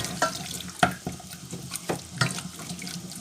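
A spoon stirs milk into a roux in a saucepan while making sauce aurore, giving a series of short wet clinks and sloshing scrapes in an irregular rhythm, close and fairly quiet, with no talking.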